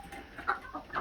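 Brown leghorn rooster in a backyard homestead coop clucking softly, a few short faint calls close by over low background noise.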